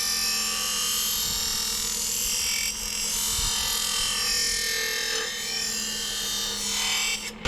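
A lawn mower blade is worked along its edge with an abrasive, making a steady, close rasping scrape. The scraping dips only briefly a few times and runs without talk.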